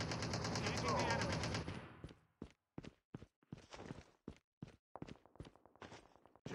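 Gunfire and footsteps in Call of Duty Mobile battle royale mode: a dense burst of rapid fire up front, then a string of separate sharp shots and steps spaced about evenly, fairly close and loud.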